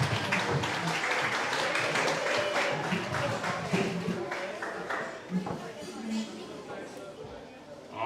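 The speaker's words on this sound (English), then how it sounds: "Everybody give a big round of applause, Gage Warner." Audience applause for a senior player at a high school football coach's show, steady clapping mixed with crowd chatter, fading somewhat toward the end.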